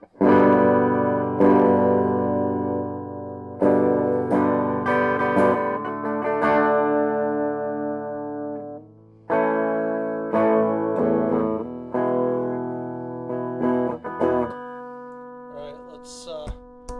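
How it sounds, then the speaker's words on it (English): Electric guitar chords played through a Siren Pedals Juneau Bluesbreaker-style overdrive pedal ring out one after another, each sustaining and fading before the next strum, with short pauses between. "Play you a few clean tones."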